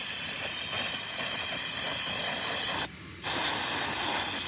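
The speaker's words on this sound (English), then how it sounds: "Use some carburetor cleaner. We're just going to spray this off here." Carburetor cleaner sprayed from an aerosol can onto a weedeater part: a loud, steady close-up hiss running almost throughout, broken by one brief pause before spraying resumes.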